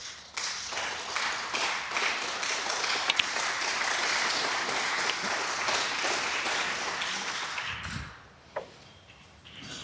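Snooker crowd applauding at the British Open ranking event, as a match ends on a neighbouring table: a dense, steady wash of clapping that holds for about eight seconds, then fades to a quiet hall with one sharp knock.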